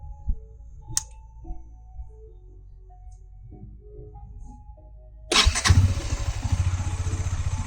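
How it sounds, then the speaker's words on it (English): Quiet clicks and faint rattles, then a Bajaj Dominar 400 motorcycle engine, after a dead battery, suddenly fires up and settles into a loud, throbbing idle close by. "Now let's try and crank up our motorcycle."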